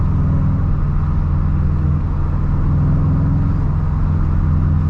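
A 2011 Subaru WRX hatchback's engine drones steadily from inside the car while driving twisty back roads, a loud, continuous low rumble with even road noise and no talk.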